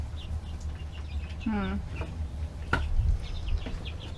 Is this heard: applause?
no